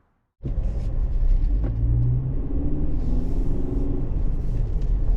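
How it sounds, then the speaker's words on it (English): A 2023 Ford Ranger XLT SuperCrew 4x4 pickup on the road: a steady low engine and road rumble begins abruptly and holds evenly throughout, heard from inside the cab with no talking. "we are out driving this 2023 Ford Ranger"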